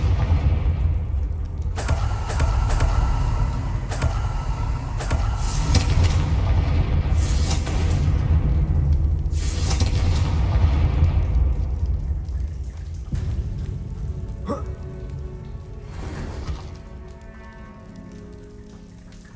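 A Confringo fire spell blasts in Hogwarts Legacy, a dense rumbling burst of fiery noise that roars for several seconds, then thins into crackling debris and fades to a quieter tail.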